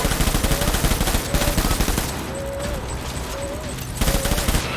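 A magazine is emptied in sustained rapid gunfire in Death Stranding. The loud bursts ease into a quieter stretch with faint chirping tones, then the shooting resumes near the end.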